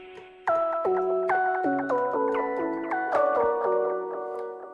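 A plucked synth lead made from a voice sample plays a quick melody of short, bright notes, each with a fast pitch drop at the attack, steady and moderately loud with no voices.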